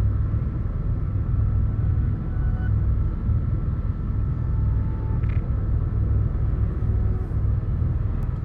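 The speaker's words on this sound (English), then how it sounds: "Oh, here we go with the storm." A storm on a planet in the video game No Man's Sky, a steady, loud low rumble of wind and weather that runs unbroken throughout, with a faint high whine at times and no talking.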